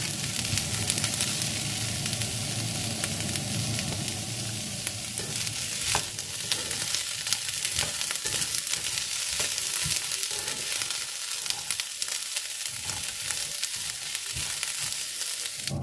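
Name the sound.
almonds being stirred and dry-roasted in a pan over low heat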